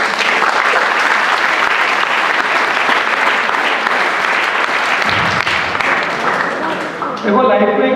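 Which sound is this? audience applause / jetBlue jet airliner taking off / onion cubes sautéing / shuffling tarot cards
audience applause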